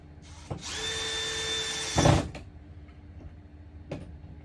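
A power drill drives a screw while an RV lock is being installed, one sustained whirring run of about a second and a half ending in a louder burst, followed by faint clicks and a short knock.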